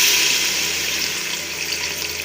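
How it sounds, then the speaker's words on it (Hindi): Water poured steadily into a cooking pot of degi aloo gosht, a continuous close hiss and splash with no talk. "ये देखें हम इसमें पानी ऐड कर रहे हैं।"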